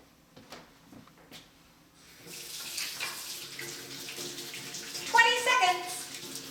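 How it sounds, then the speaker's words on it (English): Hands are washed under a running kitchen tap while making seven layer bars. A steady splashing stream starts after a couple of quiet seconds and carries on, moderately close. "Our first step is to wash your hands."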